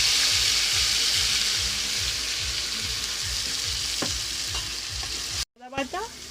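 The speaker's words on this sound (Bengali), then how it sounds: "প্রথমে তেজপাতা, তারপর গোটা গরম মশলা, চালমগজ বাটা, বাদাম বাটা সাদা তেলে দিয়ে দিলাম।" Bay leaf, whole garam masala, melon-seed paste and nut paste fry in white oil with a loud steady sizzle and rhythmic scraping stirs, cut off abruptly before a brief clatter.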